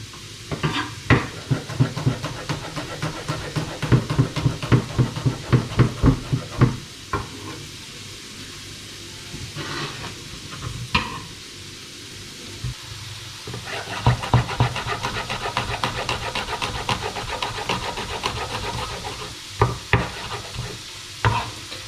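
Thin garlic slices frying with onion in a pan for carbonara, a steady close sizzle broken by repeated stirring scrapes and clatters of utensil on pan.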